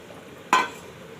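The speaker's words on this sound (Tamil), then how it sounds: "கரைச்சி வடிகட்டி வச்ச புளியை ஊற்றிடுங்க." Strained tamarind water poured into a simmering drumstick curry gives one short, sharp splash and sizzle that rises suddenly and fades within a quarter second.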